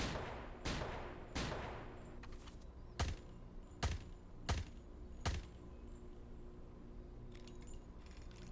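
Roblox Jailbreak toy Nerf guns fire a series of sharp, separate shots, two louder bursts followed by four evenly spaced cracks, each standing out clearly against a quiet, low hum.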